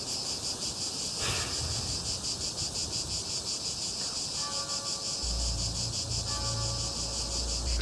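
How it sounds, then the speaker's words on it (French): Cicadas drone at night in a loud, unbroken pulsing buzz that fills the background, joined later by a low rumble and a faint steady tone. "C'est quoi, des grillons? C'est assourdissant. J'arrive à peine à penser. Ce sont des cigales."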